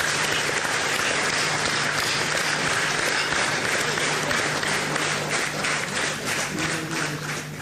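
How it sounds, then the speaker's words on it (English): An audience at a shareholders' annual general meeting gives a long, loud round of applause for an all-women space mission team. Individual claps grow more distinct as the ovation gradually thins toward the end. "let us give a big round of applause to ISRO's all-women team of Chandrayaan"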